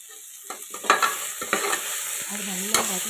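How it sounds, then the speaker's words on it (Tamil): Onions are stirred and sautéed in a pan for mushroom biryani, giving a soft steady sizzle broken by irregular scraping and clinking strokes of a spoon. The sound is close and fairly quiet, with no voices. "அது வதங்குற அளவுக்கு கிளறி விட்டுட்டே இருங்க"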